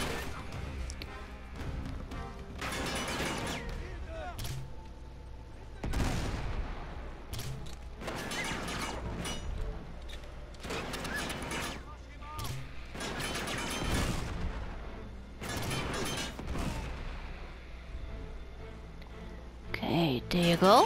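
Gunfire from the Uncharted video game, sharp repeated shots and crashes scattered through a dense game soundscape, with a player talking over much of it.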